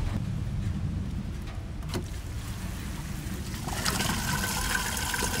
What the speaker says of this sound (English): we're ready to drain our black tank out now and get all of that soapy water out